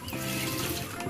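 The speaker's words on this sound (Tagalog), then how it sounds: "Lagyan natin ng tubig." Water splashes and gurgles steadily as it is poured into chicken feed mixed with rice bran, a close, continuous liquid rush with no voices.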